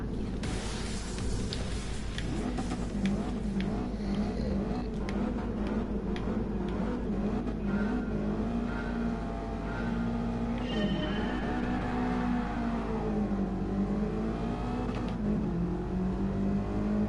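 Race car in Gran Turismo Sport launching from a race start, its engine roaring continuously and loudly as it climbs and shifts through rising and falling pitch sweeps, with no talk over it.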